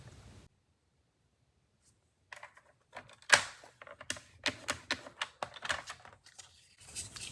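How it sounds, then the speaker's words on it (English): A paper trimmer's blade scores a new line on cardstock for a pop-up fold card, a run of close, dry scraping clicks and short strokes after a near-silent pause, with handling rustles at the end. "I'll put it back in my trimmer and make a new score line that's slightly closer to the edge"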